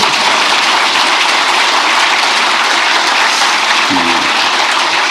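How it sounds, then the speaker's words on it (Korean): Audience applause at a presidential meeting, a dense, steady wash of clapping that holds loud and even from start to finish, with a brief low thump near the end. "이럴 때 박수도 한번 하세요."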